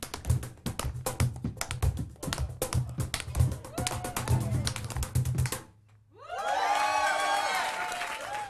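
Tap shoes rattle out rapid, crisp rhythms on stage at Ronnie Scott's jazz club in London during a tap jam, then the dancing stops and the crowd breaks into loud cheering and applause.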